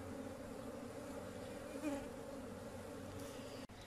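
Bees and other insects hum in a steady, dense buzz at a freshly opened beehive in an apiary, close and continuous with no voices, broken by one brief dropout near the end.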